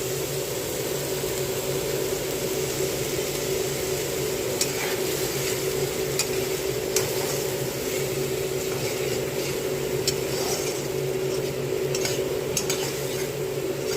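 Spice paste of cumin, turmeric and coriander sizzles in a pan with onion-garlic-ginger masala for chicken curry, a steady close frying hiss with occasional light stirring clinks and no talk.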